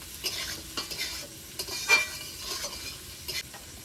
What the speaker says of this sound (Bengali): একটু নেড়ে চেড়ে নুন হলুদটা মিশিয়ে নেবো।